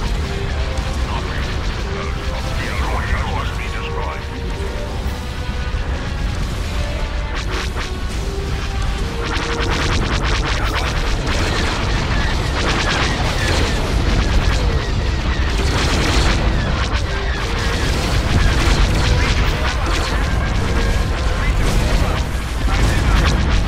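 Ships firing on a space station in Empire at War: Thrawn's Revenge, heard as a dense, unbroken wall of booming blasts and crashing impacts that stays loud for the whole stretch.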